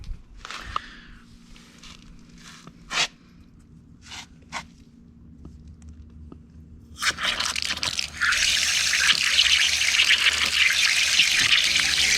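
An outdoor garden tap with a newly replaced valve is opened, first giving a few scattered clanks and footsteps, then a strong steady gush of running water that lasts several seconds.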